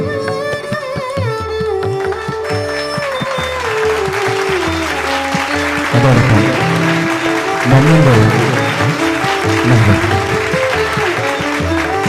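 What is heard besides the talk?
applause for a guest being honoured at a college event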